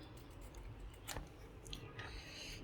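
Someone bites and chews raw green mango, giving a few soft crunchy bites followed by quiet wet chewing, close and faint with no talking.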